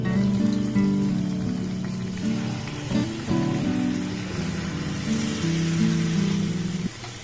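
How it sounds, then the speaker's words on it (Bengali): Mango malpua deep-fry in hot oil, giving a steady, close crackling sizzle like heavy rain, with a low tonal hum running underneath. "আমি এইভাবে সব মালপোয়াগুলো ভেজে নেব।"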